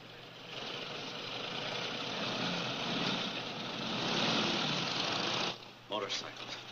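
Several motorcycles idle together in a steady, loud, broadband engine drone that holds for about five seconds, then drops away abruptly and leaves a few scattered knocks.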